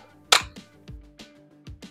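A spring-loaded cannon on a Thousand Sunny ship model snaps open with one sharp, close plastic click, followed by several fainter small taps and clicks.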